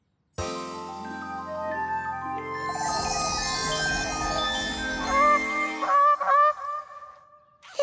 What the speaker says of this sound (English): It's the swan. He stole my brioche.